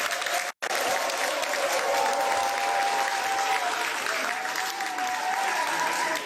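Municipal councillors in the seaside town of Limbé applaud the election of the first city mayor, a long, steady burst of crowd clapping heard at a slight distance, briefly cut once near the start.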